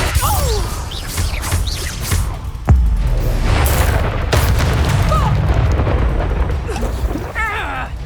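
A Confringo fire spell bursting in the wizarding action game Hogwarts Legacy: a heavy boom cuts through a dense, continuous roar of spell combat, with whooshes and crashing impacts around it.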